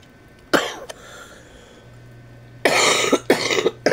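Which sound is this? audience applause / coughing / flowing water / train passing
coughing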